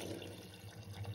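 Water is poured from a glass into a pot of roasted rice and lentils for khichdi, a short, soft steady splash close by with no talk.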